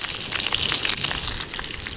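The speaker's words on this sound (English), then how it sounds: "the onions are sizzling" Onions frying in a pan over a campfire's coals, giving a close, continuous crackling sizzle with fine popping spatters throughout and no voices.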